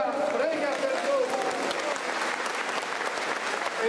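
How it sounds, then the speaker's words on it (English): A church congregation applauds St. Nicholas during a Dominican-led devotion, steady dense clapping from many hands filling the space with a busy crowd texture throughout. "con tutto il nostro cuore applaudiamo San Nicola, prega per noi"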